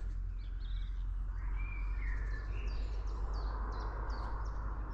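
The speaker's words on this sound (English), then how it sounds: "That is a chiff, chaff." Chiffchaff song in a winter outdoor setting, thin repeated high notes over steady background noise, with other distant birds calling faintly around it.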